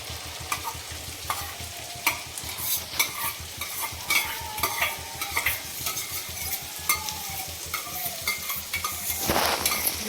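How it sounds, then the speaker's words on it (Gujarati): Chopped green turmeric roasting in ghee in a pan, a steady sizzle with frequent scraping and clinking of a spoon stirring against the metal. "ઘીમાં હળદર શેકાશે"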